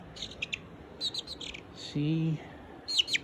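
A few soft, high chirps from a meat chicken sound close by, scattered in short bursts against a quiet background hiss.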